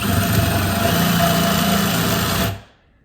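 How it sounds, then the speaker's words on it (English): A reciprocating saw with a plain steel blade cuts the threads off a bolt during hood hinge work on a 1941 Willys, a loud, steady, buzzing drone that holds for about two and a half seconds and then stops abruptly. "you use a simple steel blade, for your reciprocating saw, right up there against that, and do a right-hand spin"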